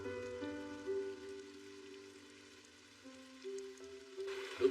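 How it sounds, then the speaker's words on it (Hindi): Cartoon rain sound effect, a steady soft patter of falling rain running throughout alongside sustained musical tones, with a brighter burst of drops at the very end. "लगता है ये बारिश अभी रुकेगी नहीं।"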